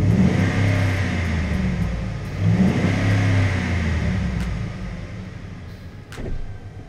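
A Ford truck's 5.4 liter Triton V8 with a MagnaFlow muffler rumbling close by, its low exhaust note swelling in a couple of revs over steady idle, with a short click near the end.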